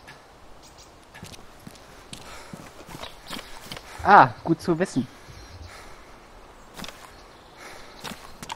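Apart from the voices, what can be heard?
footsteps in the video game DayZ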